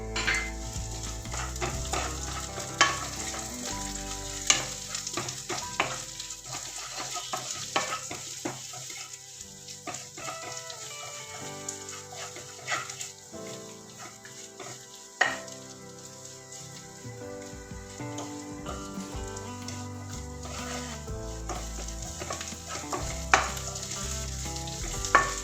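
Ginger, garlic and curry leaves fry in a pan for clam meat roast, a steady close sizzle with crackling pops and occasional stirring scrapes under soft background music.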